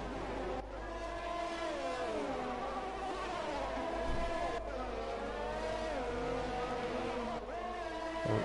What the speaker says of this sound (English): He does have a revving glitch